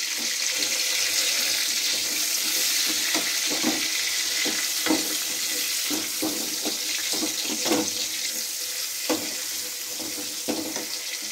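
Tomatoes frying in a pan give a constant close sizzle, while a spoon stirs them with a string of soft, irregular scrapes and taps, and no one speaks.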